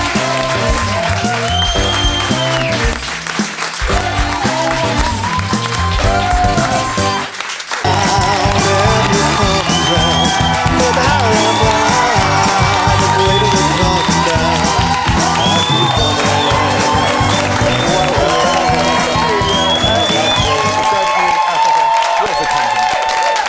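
Studio audience clapping and cheering at a television show, a dense continuous wash of applause with whoops and shouts that briefly dips before swelling again, with music and voices mixed in throughout.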